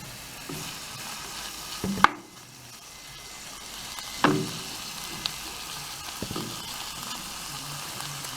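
Kale sizzles steadily in a pan as it cooks down, with occasional sharp stirring clatters against the pan over a continuous soft frying hiss, close and with no talk.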